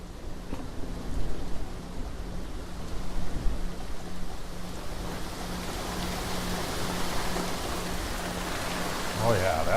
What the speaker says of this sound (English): Oh yeah, that's some good rain.